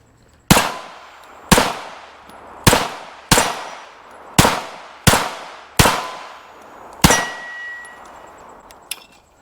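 Eight sharp gunshots from a CZ P-10 C ported pistol crack out close by at a steady pace of about one per second. Each report rings briefly into a metallic tail, and there is no talking.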